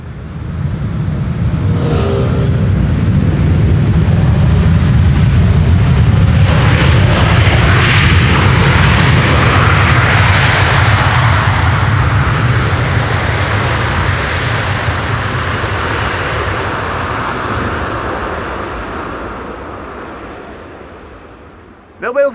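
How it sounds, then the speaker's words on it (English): A large airliner lands on runway 18R at Schiphol with its thrust reversers roaring. The loud, broad engine rumble holds steady for many seconds and then slowly fades, and a voice comes in briefly over it. "Little bit of reverser action there."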